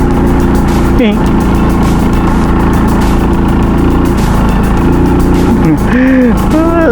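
A motorcycle engine labouring uphill in second gear, a loud continuous drone close by, holding a steady pitch with brief shifts, while a voice talks over it.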